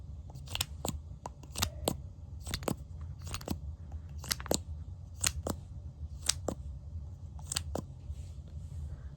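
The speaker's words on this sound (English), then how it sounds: "And then I'm literally just gonna brush them back like this" Close-up brow brush sweeps eyebrow hairs backward in a quiet makeup routine, making a series of crisp, bristly flicks at an uneven rhythm over a soft hush.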